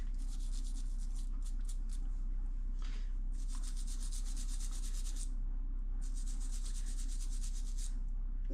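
Grime is scrubbed off the old wiring of a 1969 TS250 motorcycle with brisk back-and-forth rubbing strokes, close and loud, in repeated bursts broken by short pauses over a low steady hum.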